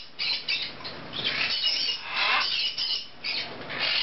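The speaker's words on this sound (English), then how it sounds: "You have to remember that cockatoos are loud." A male Triton cockatoo squawks loudly and repeatedly, harsh raspy calls following one another with only brief gaps, close to the microphone with no other voices.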